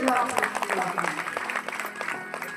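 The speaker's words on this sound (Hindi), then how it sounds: "दानदाताओं के लिए जोरदार तालियां" Applause from a crowd, dense and sustained, with a voice talking over the clapping.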